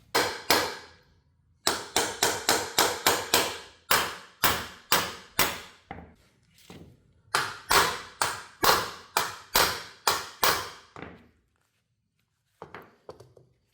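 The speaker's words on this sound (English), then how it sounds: "We're just gonna lightly tap it in there with the hammer" A hammer lightly taps a U-joint cap into a Toyota FJ Cruiser rear driveshaft in quick bursts of sharp, ringing metal taps, several runs of blows separated by short pauses, close and clear.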